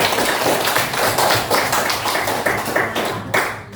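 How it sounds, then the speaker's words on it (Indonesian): Dense, close applause from a group thanking a participant during a religious discussion on human dignity, brisk continuous clapping throughout with no talk over it. "Tepuk tangan dulu untuk"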